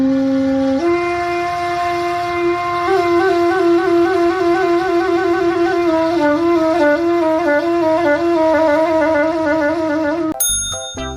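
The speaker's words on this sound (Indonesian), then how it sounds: "Saluang adalah alat musik tiup tradisional khas Minangkabau, Sumatera Barat" A saluang, the traditional Minangkabau bamboo flute of West Sumatra, plays a sustained breathy melody with stepped pitch changes for about ten seconds, clear and close, ending in an abrupt cut.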